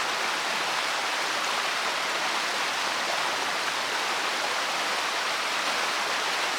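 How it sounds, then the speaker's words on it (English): Waterfall pouring into a creek, a dense, constant rushing roar of falling water, loud and unbroken with no other sounds on top. "We got a whole waterfall leading into the creek"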